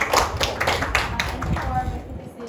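A small audience gives applause at the end of a linguistics class presentation, a few seconds of close, scattered clapping that tapers off toward the end.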